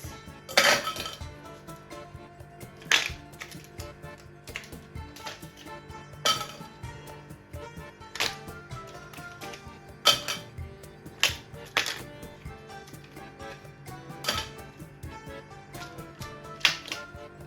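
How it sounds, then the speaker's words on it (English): Ice cubes clink one at a time into a cocktail shaker while mixing a margarita, about eight sharp hard knocks spaced unevenly over a quiet room, close and crisp. "Let's add the ice. You always add a ton of ice."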